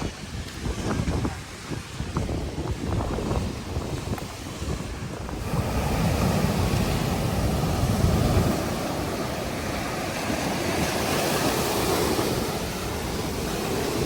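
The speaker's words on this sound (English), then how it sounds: "The beach is nice, but the water is really rough today." Rough ocean surf rolls onto a beach at a Cancun all-inclusive resort, a continuous broadband roar of breaking waves mixed with gusting wind buffeting the microphone, swelling louder midway and staying steady.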